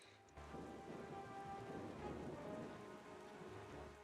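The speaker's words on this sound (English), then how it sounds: "Or maybe this storm just started raging afterwards?" Rainstorm with thunder on the ocean in Wind Waker: dense rain hisses steadily while low thunder rumbles beneath, kicking in abruptly after a brief quiet start and staying faint but continuous.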